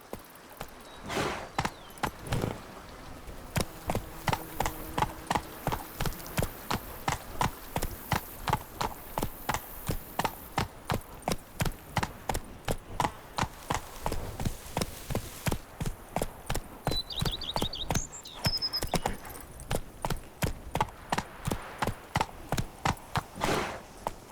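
Hooves of the horse Roach in The Witcher 3 video game pound out a steady, fast gallop rhythm, loud and close throughout, with a brief high metallic jingle partway through.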